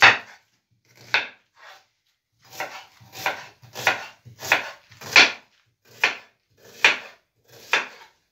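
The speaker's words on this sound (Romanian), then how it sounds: "Putem să tăiem ceapa mai mașcat, nu prea ca la ciorbă." Knife chopping onion for a simple Romanian sweet cabbage dish with smoked meat, about a dozen crisp, separate cuts on a board, close and clear, with irregular gaps between strokes and no voices.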